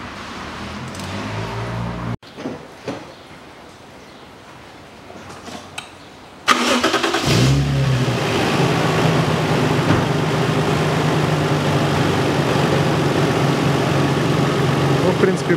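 Starter cranking, then the engine of a 1998 Toyota Mark II JZX101 catches with a sharp burst and settles into a steady, loud idle after new spark plugs are fitted, with a brief voice in the quieter stretch before the start.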